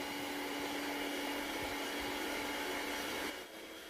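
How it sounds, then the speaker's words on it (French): An electric mixer whisks cream together with cocoa and an instant double chocolate dessert mix, a constant motor whine close by with no pauses, its pitch dropping slightly just before the end. "Je vais commencer à fouetter d'abord tous ces ingrédients."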